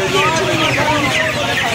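Chinese chickens at a rainy-season poultry market in Uluberia cluck continuously at close range in a busy chorus, with people talking over them.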